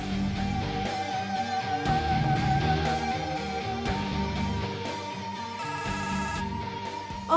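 A mobile phone ringtone plays loud and close, a melodic repeating tune with shifting tones lasting several seconds, with no talking over it.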